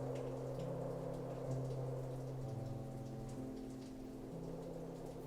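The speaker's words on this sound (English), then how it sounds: "The rain had started in the late afternoon, but it only turned into a full downpour after 10." Heavy rain pours down steadily at night around a lone cabin, a dense continuous hiss with a low rumbling bed and sustained tonal hum underneath, no voices.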